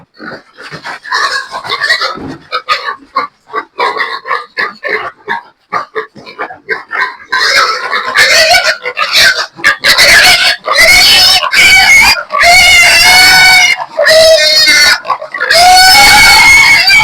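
Pigs on a farm squeal and grunt loudly and close by while struggling and fighting during treatment. Bursts of grunting build into long, piercing, continuous shrieks.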